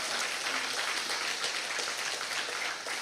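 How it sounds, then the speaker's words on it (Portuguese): A church congregation claps steadily through a service, a dense, even wash of many hands that holds at a moderate level from start to finish. "Dê um aplauso ao Senhor."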